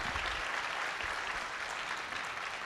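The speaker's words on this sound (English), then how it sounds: "Please give yourselves a round of applause." Broad steady applause from an audience at a community awards ceremony, many hands clapping at fairly even strength throughout, heard from a moderate distance with no clear speech.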